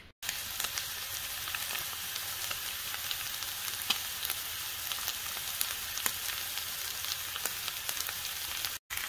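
Beef sizzling steadily in a hot frying pan, a dense continuous crackle and hiss with occasional sharper pops, close and fairly loud throughout with no talking.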